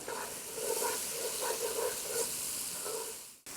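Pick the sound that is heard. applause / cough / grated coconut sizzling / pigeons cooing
grated coconut sizzling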